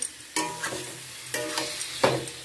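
Marinated chicken hits a hot pan of oil in a Bengali home kitchen, giving a bright close sizzle with a few sharp bursts as pieces drop in and get stirred, spoon scrapes recurring through the steady frying hiss.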